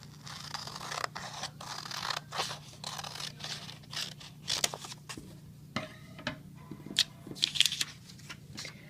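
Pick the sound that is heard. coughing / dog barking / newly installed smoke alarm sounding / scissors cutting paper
scissors cutting paper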